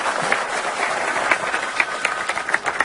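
A film scene of an event honouring the head of a pediatric medicine department, where an audience gives sustained, fairly loud applause as a steady, crackling wash of clapping.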